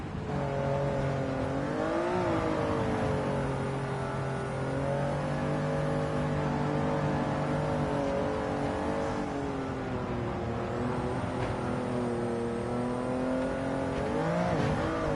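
A Chaparral 2J race car in Gran Turismo 7 drones steadily with a sustained engine whine that rises and dips in pitch through gear changes on track, loud and continuous with no talking.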